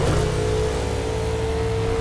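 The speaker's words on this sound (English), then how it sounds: "Hear somebody's rumbling engine behind me." A car engine in the video game Burnout Paradise Remastered rumbles steadily with a low growl and a faint whine on top, continuous and fairly close.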